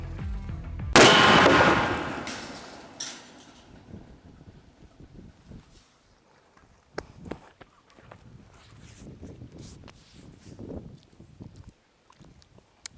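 An improvised pipe gun fires once as a loud, sharp blast with a long decaying tail, followed by quieter outdoor rustling, wind buffeting and scattered small knocks.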